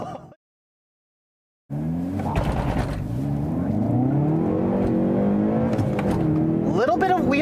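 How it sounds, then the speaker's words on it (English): A 2019 Hyundai Veloster accelerating hard from a standstill, with the engine note climbing steadily and loud inside the cabin while a person talks over it after a brief silence at the start. "A little bit of wheel hop there initially."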